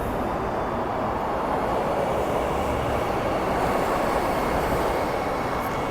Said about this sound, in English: So the train is here.